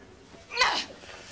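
A single loud, close human sneeze bursts out sharply and fades in about a quarter second, with no talking around it.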